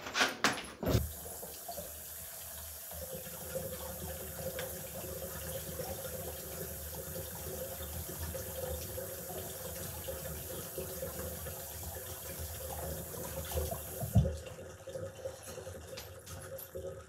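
Tap water runs steadily into a kitchen sink while food is washed for burger prep, a continuous close gush lasting many seconds, with brief splashing and handling bumps at the start and near the end.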